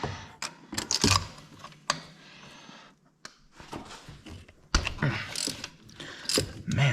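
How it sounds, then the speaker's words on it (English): Ratchet clicking in bursts while spark plugs are loosened and pulled from a Ford Coyote V8 engine, with metallic tool handling and short pauses between turns, close and fairly loud. "Let's go ahead and pull these other spark plugs out."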